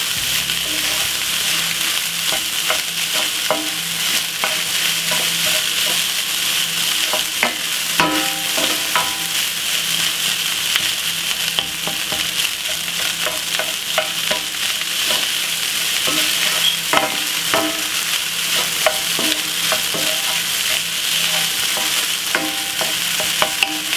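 Curry fried rice with vegetables stir-frying in a pan for a Jamaican-style dish, with a steady close sizzle and repeated scraping stirs of the utensil running throughout, no talking.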